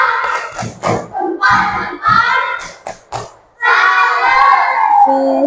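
A group of schoolchildren in a classroom perform the 'tepuk salut' clapping chant, loud shouted rhythmic voices with sharp bursts of claps, a brief pause midway, then a sustained chanted finish.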